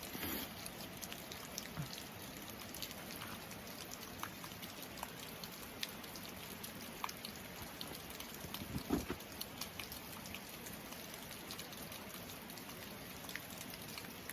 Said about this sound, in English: it's raining cats and dogs out here